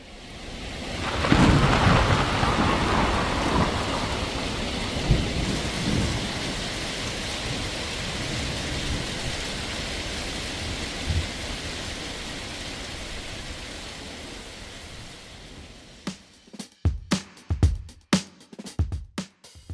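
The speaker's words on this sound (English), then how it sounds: "severe thunderstorms were reported to be rolling into the area" A severe thunderstorm rolling in along the Icefields Parkway: steady heavy rain and rumbling thunder fill most of the span, then several sharp, loud thunder cracks and booms burst out near the end, with no talking.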